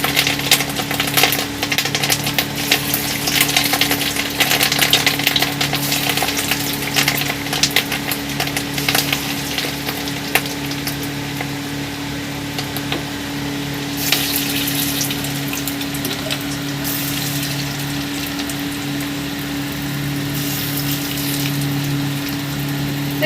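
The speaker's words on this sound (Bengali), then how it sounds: "এবার আমি একে একে বড়াগুলো ছাড়বো।" Fish roe fritters fry in hot oil in a kadai, giving a continuous, fairly loud bubbling sizzle over a steady low hum that runs the whole time, with scattered crackles.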